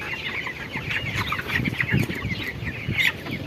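Chickens, 26 days old, cluck nearby in a busy, irregular chatter of short calls while being weighed, with no talking.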